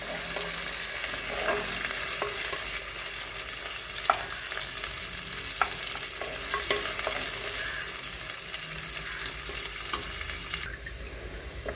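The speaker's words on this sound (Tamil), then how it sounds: "அது கூடவே வெங்காயமும் ஆட் பண்ணிக்கோங்க. இது நல்லா வதங்கணும்." Onions fry in oil for a Tamil eggplant and sardine curry, giving a steady close sizzle with stirring scrapes and occasional sharper clicks from the spoon, and no one speaking.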